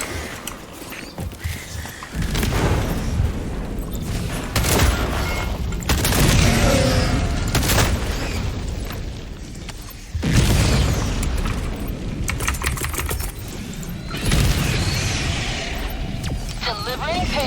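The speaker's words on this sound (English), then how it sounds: "Firing orbital strike." Heavy orbital strike explosions in the Helldivers 2 video game, a run of loud deep booms and rumbling blasts that come in waves, with crackling bursts and a voice talking over them.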